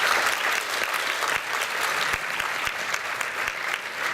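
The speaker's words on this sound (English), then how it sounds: "I just want to give them another round of applause." Concert audience applauding a school student band, dense sustained clapping filling the whole stretch, loud and steady with crowd murmur beneath.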